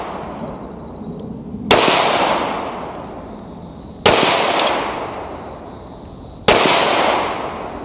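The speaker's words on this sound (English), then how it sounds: "slowly getting on that trigger slow and just letting the gun go off" Three loud handgun shots at a firearm training range, evenly spaced about two seconds apart, each a sharp crack followed by a long ringing, reverberant decay.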